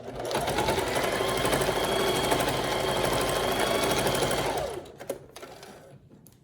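A sewing machine runs a straight stitch through fabric, a loud rapid continuous whir for about four and a half seconds that stops abruptly, followed by a few faint handling clicks.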